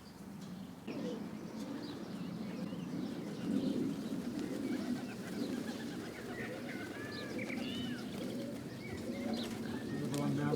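Roller pigeons coo softly outdoors, with scattered chirps over a low, faint background murmur that continues throughout.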